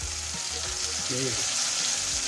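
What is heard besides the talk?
vegetables frying in a pan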